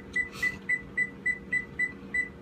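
A kitchen timer set for baking lemon bars emits eight evenly spaced short electronic beeps, quiet and clear over faint room noise.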